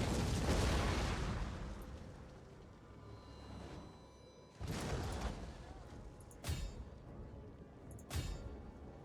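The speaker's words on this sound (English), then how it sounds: "these explosive rounds do a lot of damage" Explosive artillery rounds land in the battle game Total War: Attila, with a long rumbling blast followed by several sharper booming impacts at irregular intervals.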